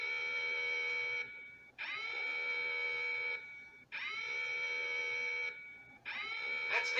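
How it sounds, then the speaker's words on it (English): An outside building alarm blares in long, loud electronic tones, four sustained blasts with short gaps between them, steady and alone with no talking. "That's the outside alarm."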